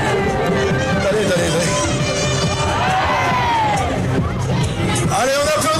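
Outdoor crowd at the Vitré carnival cheering a passing float, loud continuous hubbub with children shouting and scattered whoops.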